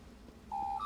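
A phone sounds a short electronic notification: a clear pure tone that sustains for a moment, then steps up to a higher pitch, bright above a faint room background.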